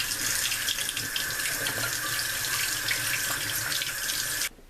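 Tap water runs steadily into a sink as boneless steak is rinsed under it, a close, even rushing splash that cuts off abruptly at the end.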